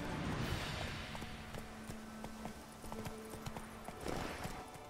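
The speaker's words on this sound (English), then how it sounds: "Run, Roach." Horse hoofbeats of the steed Roach in the video game The Witcher 3, a steady clip-clop of hooves moving at pace with a low ambient bed, continuous and fairly close.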